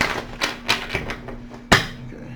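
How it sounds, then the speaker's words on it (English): Tarot cards being shuffled during a card reading, a few crisp riffling taps and flicks spaced across a couple of seconds, ending in one sharper snap, close and fairly quiet with no talking. "Do a little bit of a shuffle here."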